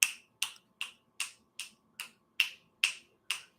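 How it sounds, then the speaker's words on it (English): Finger snapping used to call a deaf dog: nine sharp, close snaps in a steady, slightly uneven rhythm over near silence. "She can't hear, so I have to snap."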